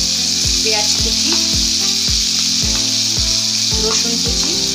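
Chicken fries in a pan with turmeric and Kashmiri chili powder, giving a steady close sizzle over a regular, repeating scraping rhythm of stirring, with no talk.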